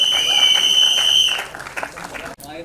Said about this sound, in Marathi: जोरदार टाळ्या आपल्या टॉपच्या किंगसाठी आणि टॉपच्या गँगसाठी.